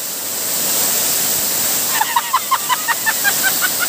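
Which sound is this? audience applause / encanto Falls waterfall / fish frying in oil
encanto Falls waterfall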